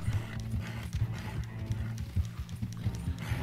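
Horse galloping in Red Dead Redemption 2, with quick, rhythmic hoofbeats pounding close and clear over a few seconds of open-country travel.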